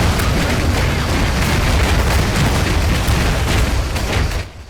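Iron Harvest M19 Nox mech in a PC strategy game firing machine guns, light cannons, heavy cannon and rocket pods at once, a dense continuous roar of blasts and rumbling explosions, loud and steady, cutting off abruptly at the end.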